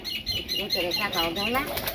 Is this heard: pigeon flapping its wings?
yes